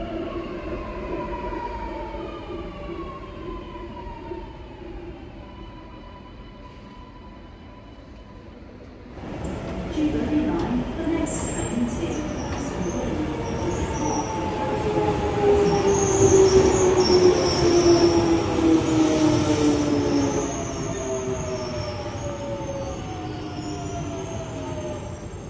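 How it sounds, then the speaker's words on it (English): A Sydney Metro train rolls in, its motor whine and rumble swelling as it arrives, with high squealing wheels and hissing brakes over a steady roar. "The Metro coming in behind me, you'll be able to hear the noise"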